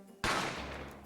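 A single sharp gunshot in The Great Ace Attorney, a sudden loud crack that cuts through a quiet moment and decays into a short rumbling tail.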